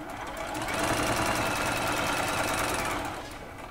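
A sewing machine joins quilt sashing pieces at a 1.2 stitch length, running in one steady, close, continuous whir for about three seconds before slowing to a stop, with no talking over it.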